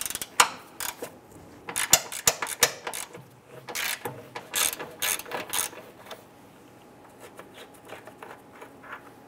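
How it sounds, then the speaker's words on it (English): A ratchet fitted with a 13 mm socket clicks in quick bursts while loosening a bolt on a 2002-2008 Dodge RAM. Close, crisp pawl clatter comes in several rapid runs separated by short pauses. "Use your 13 millimeter socket to loosen and remove this bolt right here."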